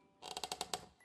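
A door in the Poppy Playtime video game creaks open in a quick series of about seven rhythmic, ratcheting creaks, close and moderately loud, ending with a short click.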